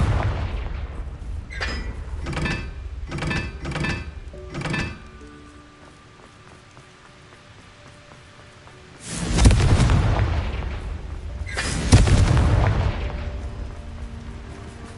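Booming blasts from Confringo spells in a Harry Potter–style wizarding video game: a quick run of five or six sharp thuds early on, then two heavy, rumbling explosions later, loud and alone with no talk.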